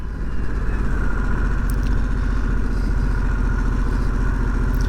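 A 2022 Harley-Davidson Sportster S motorcycle engine drones loud and steady while riding, with a constant low throb and wind noise and no speech over it.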